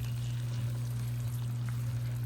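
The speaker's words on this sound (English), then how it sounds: "I'm gonna just get just about a tablespoon of water" Water poured into a pan of guava glaze simmering on low heat, giving a steady, even hiss with a low hum underneath and no voices.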